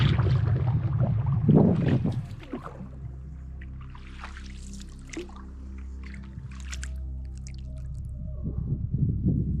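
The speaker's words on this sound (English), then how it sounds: "Wolves." Wolves howling near the Wolf River in the Yukon wilderness, long tonal wails with stacked harmonics rising and falling over several seconds, carried on wind with a low rumble beneath, moderately distant.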